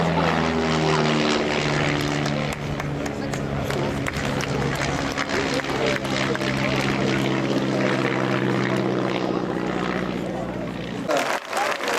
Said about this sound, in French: la patrouille de France qui vous salue